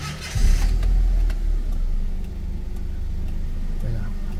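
A car engine with 96,000 km on the odometer, after top overhaul work for a snapped timing belt, cranks and starts near the microphone, then settles into a steady low idle.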